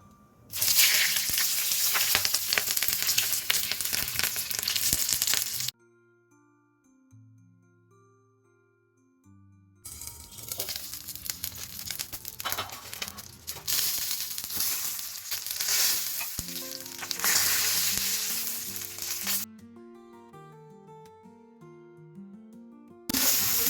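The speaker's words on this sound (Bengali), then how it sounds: "এরপর আমরা এটাকে তেল গরম করে তার মধ্যে ছেড়ে দেবো" Hilsa fish paturi, parcels of fish wrapped in leaves and tied up, frying in hot oil, with loud bursts of broadband sizzling that break off into quieter stretches with background music before returning.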